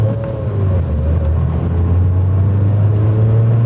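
A 2008 Mazda MX-5 Miata NC heard from inside the cabin during a tight, slow U-turn on a winter drive, its engine a steady low droning hum with a slight rise in revs.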